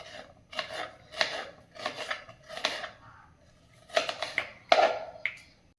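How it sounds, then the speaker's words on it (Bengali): A knife slices an onion lengthwise on a board in a home kitchen, giving a series of close, crisp cuts in uneven bursts with short pauses, no speech heard. "যতক্ষণ কড়াইটা গরম হচ্ছে পেঁয়াজটাও কেটে নিচ্ছি লম্বা করে"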